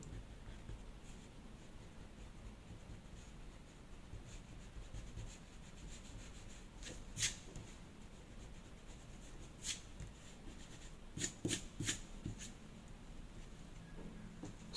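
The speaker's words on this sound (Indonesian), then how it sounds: "bagian dalamnya pun kita hapus. Kita hapus sedikit-sedikit." An eraser rubs over a pencil drawing of a manga eye on paper. The scrubbing is faint and steady, coming in soft strokes with a few sharper scuffs, close up and free of speech.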